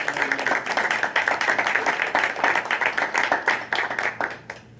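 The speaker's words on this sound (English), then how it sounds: "please give Ms. Bacher a round of applause" An audience at a board of education meeting claps for an honoree, a crisp, close patter of many hands that stays busy throughout before thinning out at the end.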